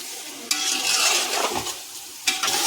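Biryani masala fries in a pot for chicken biryani while being stirred, a close crackling sizzle with scraping strokes and a couple of sharp metallic knocks.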